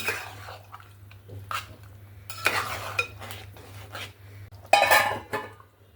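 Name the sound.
pot lid handled while cooking chicken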